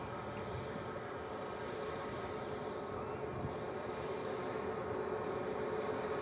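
An airliner lands on the Manchester Airport runway in a crosswind, crabbing on approach, heard as a steady, moderately distant engine roar that holds level and alone with no talk.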